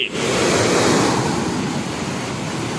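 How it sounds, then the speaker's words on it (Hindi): River water roars loudly through an open gate of the Kosi barrage during flood, a dense, continuous rushing torrent close by with no break across the whole stretch. "जब फाटक उठा हुआ है तब देखिए कैसा पानी निकलता है"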